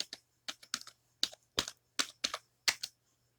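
Typing on a computer keyboard: a short run of close, crisp key clicks in small irregular clusters, quiet room, no talk.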